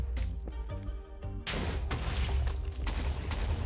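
TNT explosions in Minecraft, a sharp loud blast followed by a rapid chain of overlapping booms and cracks that keep rumbling densely, near and forceful, with no voices.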